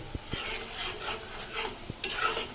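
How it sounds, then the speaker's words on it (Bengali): Homemade ghee cooking down from milk cream in a pan, a soft bubbling sizzle under repeated scraping strokes of a spoon, with a few dull knocks against the pan, close and fairly quiet. "এইভাবে আসলে ঘি বানানো হয়"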